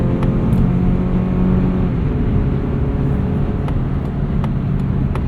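A 2026 Mazda CX-30 2.5S Aire Edition driving in sport mode, heard from the cabin as a steady, loud road and engine drone with a low whir and a few faint clicks, without talk.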